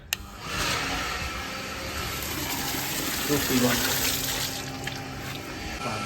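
A water pump fills a household tank, with water gushing and splashing steadily throughout and a faint voice partway through.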